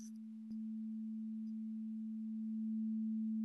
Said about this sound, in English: good old sine wave